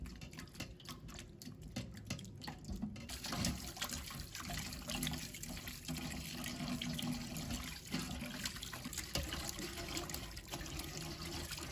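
Pig intestines are washed in water with salt and flour, giving a steady wet rubbing and sloshing, like running water into a sink, quiet and continuous for several seconds.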